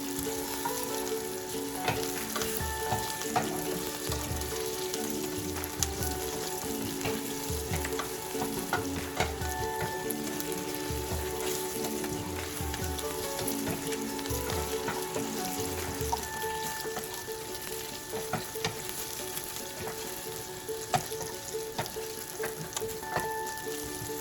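Yellow lentils frying and being stirred in a pan over a high flame, a steady close sizzle with scraping stir strokes throughout, no talk.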